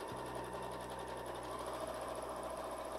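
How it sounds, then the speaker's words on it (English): A Horizon Memory Craft 9480 sewing machine stitches a free-motion zigzag, its needle running in a fast, steady whirring rhythm close by and alone for the whole stretch. "you can just start stitching because it is in free motion"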